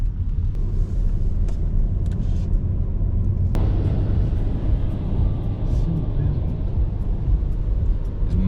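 A car cruises along a smooth mountain road beside the Norwegian fjords near Stavanger, its steady engine and tyre rumble loud and continuous throughout, with faint voices occasionally audible under the road noise.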